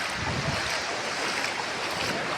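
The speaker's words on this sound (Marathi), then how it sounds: "दाखवते काय काय लाटा दाखवते तुम्हाला कशा आहेत" Sea waves washing onto Shrivardhan beach on the Konkan coast, a steady broadband surf roar with wind buffeting the microphone throughout, no voices.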